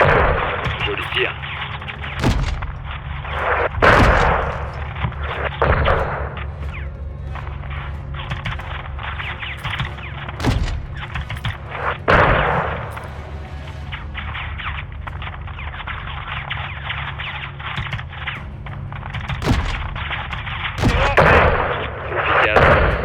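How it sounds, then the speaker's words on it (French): Heavy 40 mm cannon fire in the Call of Duty Modern Warfare II campaign, a series of loud booming shots spaced irregularly, with game dialogue spoken between and over the blasts. "Canon 40 mm. Chauffez feu."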